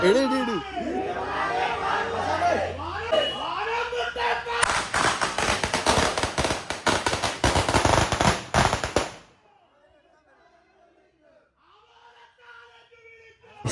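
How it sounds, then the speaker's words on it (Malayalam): Firecrackers bursting in a dense, rapid string of loud cracks and pops lasting several seconds, right after a stretch of talk and crowd noise, then giving way to quiet background sounds. "നമുക്ക് പടക്കം പൊട്ടിക്കുന്ന വീഡിയോ എടുത്തിടാൻ"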